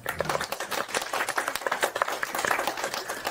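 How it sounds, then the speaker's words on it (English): Scattered applause from a small audience at a virtual author event for a bookstore, quick uneven claps close to the microphone, fairly quiet and lasting the whole moment without talk. "let's give our authors a round of applause"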